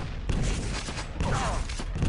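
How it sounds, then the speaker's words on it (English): Rocket jump blasts in the Quake Live arena shooter, with dense, booming explosions and thuds layered over constant game noise, loud and close throughout. "that's, you know, also a good decision to rocket jump up"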